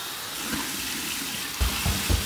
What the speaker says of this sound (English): Here's my warm water rinse.